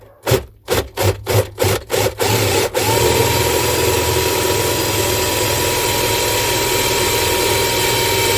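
A 10mm drill bit bores into wood for a guitar jack socket on a cigar box guitar, opening with about eight rhythmic grinding bursts that then settle into a continuous loud, steady whir of the drill.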